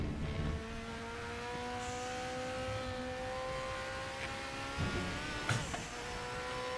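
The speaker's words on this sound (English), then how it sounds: "listen to the sound of that car. It just sounds so visceral." A race car engine in RaceRoom Racing Experience whines steadily at high revs, with smooth rising and falling tonal harmonics and a couple of short gear-shift blips, loud and close with no talk.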